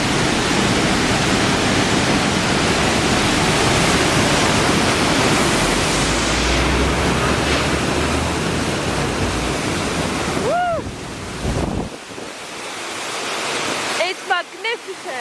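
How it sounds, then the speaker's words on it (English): Dyserth waterfall in North Wales pours as a loud, steady broadband roar of falling water close by. Near the end the rush drops away and brief voices come through. "So here is the waterfall."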